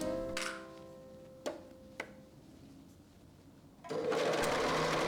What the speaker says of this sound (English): I keep the pressure foot inside the cuff so I can sew all around